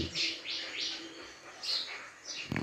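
An Oriental magpie-robin calls in a series of bright, clear whistled phrases with short pauses between them, close by in a quiet setting.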